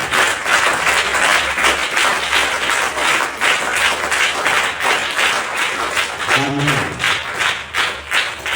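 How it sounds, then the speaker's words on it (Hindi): Vigorous applause fills a church hall at a Christmas sermon, many hands clapping in a dense, pulsing wash, with a brief tonal voice-like sound rising partway through before the clapping carries on. "हम जोरदार तालियों से उनका स्वागत करें"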